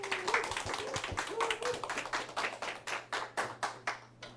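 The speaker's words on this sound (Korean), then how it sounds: "박수 부탁드리겠습니다" Modest applause at a lecture as a professor is introduced, a small audience clapping in quick uneven bursts that thin out to a few distinct claps, with a low steady hum underneath.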